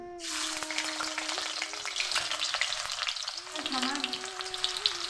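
Sliced onions drop into hot oil for a white brinjal dish and burst into a sudden, loud sizzle. The frying then holds steady and close, with stirring scrapes and a faint tonal hum running underneath.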